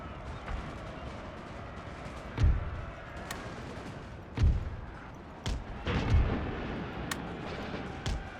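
Cannons fire canister shot in a Napoleon Total War battle, several distinct booming discharges spaced irregularly over a constant rumbling battlefield background.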